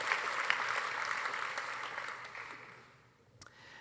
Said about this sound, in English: How about one more applause for all of our athletes?